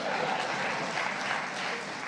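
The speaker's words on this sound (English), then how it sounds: "go ahead, applaud if you'd like." Brief, steady applause from an audience at a talk on the US-African summit, a soft, even patter of many hands clapping at a distance with no voices over it.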